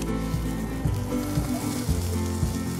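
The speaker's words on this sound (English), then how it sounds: "take it to the stove, and sear it on high heat" A rack of lamb chops sears in a pan over high heat, giving a loud, continuous sizzle over a rhythmic low thumping background for a few seconds.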